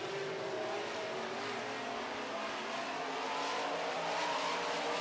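Modified race cars weighing 2,450 pounds with 360 cubic inch alcohol-burning engines roar around a track during a heat race, a continuous distant engine whine and rumble that rises slightly toward the end.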